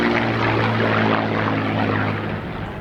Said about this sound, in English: This aircraft is a Polish-built SBL-IM-2 or MiG-15 UTI, produced in Poland in 1952.